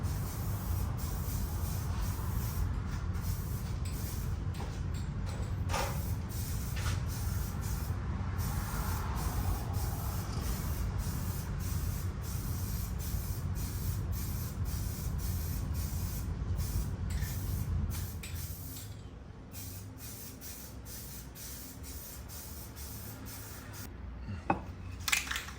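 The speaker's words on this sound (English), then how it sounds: "Here I began spraying the glove compartment and the console lid." Steady broadband hiss of a spray gun coating a truck's glove compartment and console lid during an interior color match on a Cateye Silverado, continuous and close, easing slightly quieter near the end with a few small clicks.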